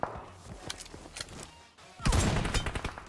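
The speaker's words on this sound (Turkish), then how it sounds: "Lan adam sıkıyor bana." Gunfire in PUBG is aimed at the player: scattered sharp shots at first, then after a brief lull a loud, close burst of rapid automatic fire.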